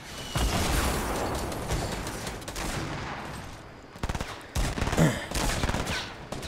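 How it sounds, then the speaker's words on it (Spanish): Gunfire from above in the Fortnite battle royale video game, a dense run of shots filling the first few seconds, then a pause and further bursts of crackling fire, loud and close. "me disparan de arriba"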